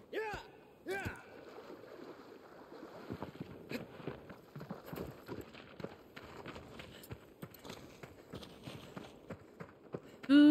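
A horse's hooves clip-clopping through shallow water in Shadow of the Colossus, a close, uneven run of clopping and splashing steps, with a person talking over them.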